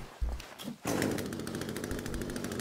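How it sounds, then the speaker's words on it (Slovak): A chainsaw revs up in The Forest video game after a short rattle, then holds a loud, rough, steady buzzing drone right up close to the end. "Testing motorovej píly."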